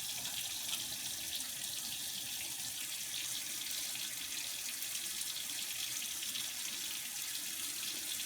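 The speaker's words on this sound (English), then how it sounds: "I need to wash my hands because they are very gooey." Hands are washed under a steadily running faucet in a kitchen sink, an even close hiss of flowing water lasting throughout with no talking.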